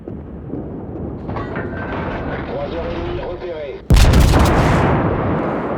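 The French battleship Dunkerque fires armor-piercing rounds in a naval battle game, with a sudden loud, booming salvo after a stretch of rumbling engine and sea ambience.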